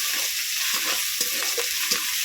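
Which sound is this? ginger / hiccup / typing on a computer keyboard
ginger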